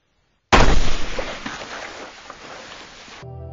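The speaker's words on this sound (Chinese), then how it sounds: "但此时枪声却响了" A single sharp gunshot cracks out in a film hunting scene beside a river, loud and sudden, then decays into a long rumbling echo that trails off over about three seconds.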